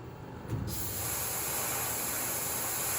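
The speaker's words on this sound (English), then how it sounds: "Put my spray mist on." A CNC lathe's coolant spray mist starts up with a sudden hiss and keeps going as a steady, broad, close-up hissing rush, while cutting 304 stainless steel.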